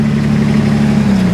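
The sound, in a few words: Ford Ranger pickup engine revving at auction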